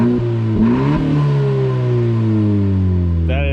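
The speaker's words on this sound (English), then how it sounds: "rev her up a little bit" A turbocharged 10th-gen Honda Civic Si fitted with a MAPerformance race exhaust and front pipe is blipped several times, then its revs fall steadily to a loud, droning idle, close up with no talk.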